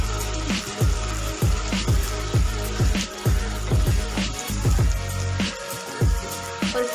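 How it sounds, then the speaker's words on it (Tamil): Turkey berries (sundakkai) sautéing in oil in a pan for a tamarind kuzhambu, with a steady close sizzle broken by a regular series of stirring scrapes and knocks. "இந்த கறி சுண்டக்கா எண்ணெயிலே நல்லா வதங்கணும்"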